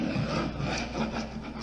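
Scraping tool rasping over flaking paint and leftover mirror mastic on drywall, a steady close-up scratchy rubbing with short repeated strokes and no talk.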